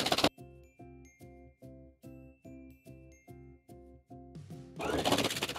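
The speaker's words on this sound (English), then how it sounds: "I'm just gonna sew all the way around the circle, making sure I backstitch at the beginning and the end." A domestic sewing machine running a seam around a fabric circle for an infinity scarf, heard as a steady series of short even mechanical bursts, close and clear, ending with a brief louder rustle or cut.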